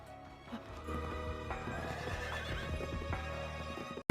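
A horse pulling a carriage neighs over the clip-clop of its hooves, set against steady background music in a Chinese kung fu period drama.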